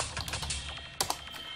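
Rapid clicking of computer keyboard keys while commands are typed into an in-game console in the shooter SiN, with a steady run of soft taps and two sharper, louder key strikes near the end, close and alone without talk.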